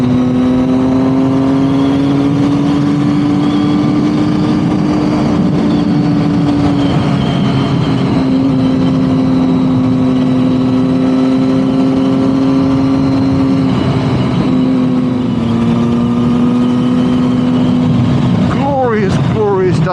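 Motorcycle engine droning at a steady, strong pitch while riding the A543 road through Snowdonia, near and continuous with wind rush, rising and falling slightly, with a brief change near the end.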